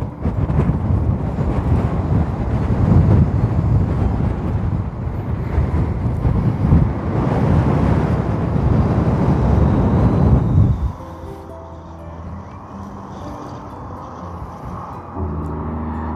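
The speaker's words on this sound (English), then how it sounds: "It is so windy outside." Strong wind buffets the microphone outdoors beside a sculpture in a small Kansas town, a loud continuous rumble for about eleven seconds before dropping away to a quieter background with faint tonal sounds.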